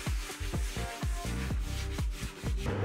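A wooden door frame is rubbed with 120 grit sandpaper in quick back-and-forth strokes, about a dozen rasping passes close up and loud, with no talking.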